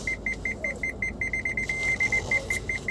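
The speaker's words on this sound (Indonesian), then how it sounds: "sedikit berisik sih noise ini salah satu alarm untuk sensor parkirnya kita" A car's parking sensor alarm beeps fast and evenly in short, shrill pips, briefly running together into one steady tone before the pips resume, clear and close over a low hum of road and cabin noise.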